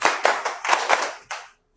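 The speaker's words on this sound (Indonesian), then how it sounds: "Tepuknya 4 kali aja." A classroom of students claps together on instruction in a handful of quick, slightly ragged group claps, loud and close in a reverberant room, then stops abruptly.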